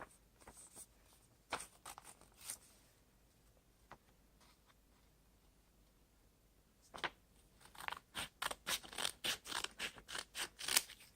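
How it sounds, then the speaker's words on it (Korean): Scissors snip through paper, two sheets at a time, in a few scattered cuts early on and then a fast, rhythmic run of crisp snips near the end, close by with no talking. "저는 그냥 이렇게 가위로 빠르게 잘라보도록 하겠습니다."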